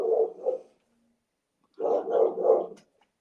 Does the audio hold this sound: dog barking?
yes